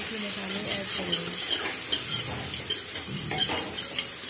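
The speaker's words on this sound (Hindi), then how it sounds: "उसमें सोयाबीन की बड़ी डाल दी है। इसे हम फ्राई करेंगे" Soya chunks and cumin fry in oil in a pressure cooker, giving a steady close sizzle broken by scraping and stirring, while a voice talks faintly underneath.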